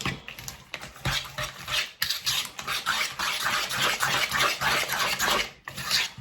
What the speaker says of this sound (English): And I'm going to stir that up